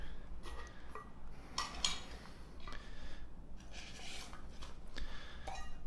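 An Optimus metal cook set and spoon being handled, with quiet clinks, taps and scraping rubs scattered irregularly at close range, no talk.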